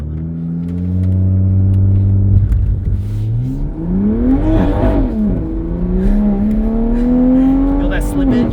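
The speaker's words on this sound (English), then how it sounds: "You were burning out because it was just revving too high." A Suzuki GSX-R motorcycle engine revs hard during a burnout, its loud pitch climbing and dipping in surges as the rear slips under a rough rumbling roar.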